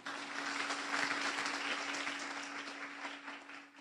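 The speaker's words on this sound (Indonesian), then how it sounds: "Mohon aplaus buat Anda semua Bapak Ibu." Audience clapping at a motivational seminar in a hall, a steady wash of applause from a seated crowd at moderate distance, sustained for several seconds then tapering slightly.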